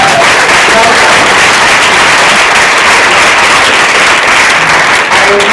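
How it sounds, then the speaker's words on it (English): A conference hall audience gives a loud, sustained round of applause at a cooking-competition session, the dense clapping continuous and filling the room for several seconds. "round of applause"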